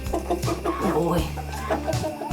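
Chickens cluck close by in a new coop, several overlapping calls in an irregular, busy stream.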